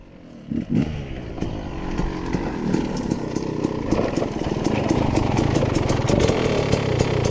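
Two-stroke dirt bike climbing a steep mountain hill, its engine buzzing and revving steadily at mid distance, rising slightly in intensity toward the end.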